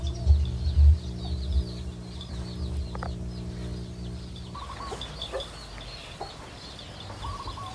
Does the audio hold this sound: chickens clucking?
yes